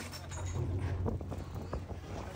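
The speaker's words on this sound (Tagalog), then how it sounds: "lakas ng ulan, ang lakas ng hangin guys, tuloy pa rin kami" Strong wind and rain batter a fishing boat at sea at night during a storm, a dense roar with patter and gusts close to the microphone and no talking.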